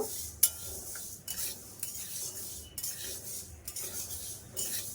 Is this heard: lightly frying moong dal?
yes